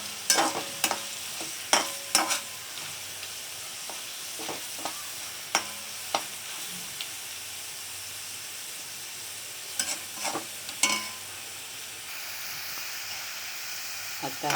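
Food fries in a pan with a faint continuous sizzle and hiss under a series of sharp clinks and taps from a utensil against the pan, scattered irregularly throughout.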